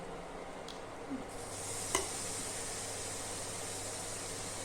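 Sprouted moth beans sautéed with tomato and yogurt in a pan, a steady soft sizzle and hiss with a faint stir and a small clink of a utensil partway through.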